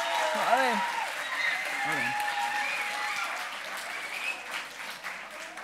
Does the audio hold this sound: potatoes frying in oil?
no